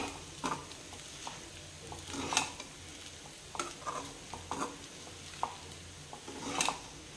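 Sabudana and potato being sautéed in a pan for sabudana khichdi, with soft sizzling under a series of irregular stirring scrapes and light clinks of the spatula, moderately quiet and close, no voices.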